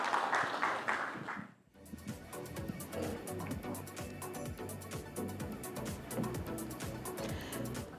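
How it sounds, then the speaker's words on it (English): Audience applause at a real estate summit session, a steady dense patter of many hands clapping that swells back in after a brief dip and carries on loud and continuous. "A huge round of applause, ladies and gentlemen"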